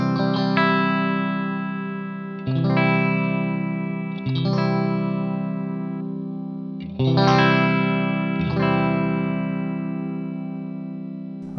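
Electric guitar picked with an orange abalone 1.6 mm Hawk pick, ringing chords struck one at a time with a bright attack and long sustain through chorus and light overdrive, about five strums spaced a couple of seconds apart, no talking.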